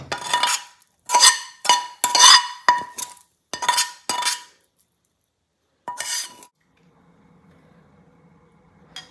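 Metal utensils clink against a bowl as a hara bhara kebab mixture of greens and potato is scraped and transferred, several sharp bursts of clatter in close succession, then a quiet low rustle at the end.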